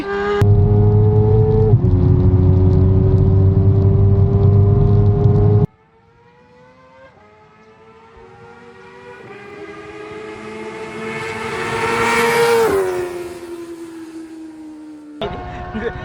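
Yamaha Aerox SP and Honda Click 160 scooter engines rev loudly and steadily, cut off abruptly, then a second engine climbs gradually in pitch to a high peak before dropping away.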